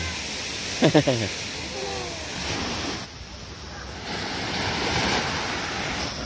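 Continuous surf washing and hissing in the background, with a brief burst of a voice near the start and the waves rising again toward the end.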